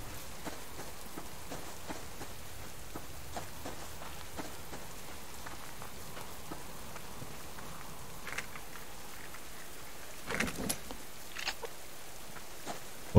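Rain in the video game Subsistence falls as a steady, even patter on surfaces, with a few sharper drops and faint bursts of crackle near the end and no talk.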